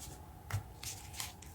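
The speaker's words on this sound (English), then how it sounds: "I wanted to go ahead and give them another quick little shuffle." A few quick riffling bursts of a card deck being shuffled, crisp and close, separated by short pauses in a quiet room.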